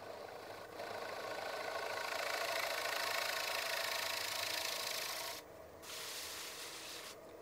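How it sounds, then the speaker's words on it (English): A wooden calabash bowl spinning on a lathe is shear scraped at the nub, giving a steady, close, hissing rasp over the low hum of the lathe, easing off briefly near the end. "I'm going to drop my tool rest in order to get a better shear angle to shear scrape that last little bit of the nub."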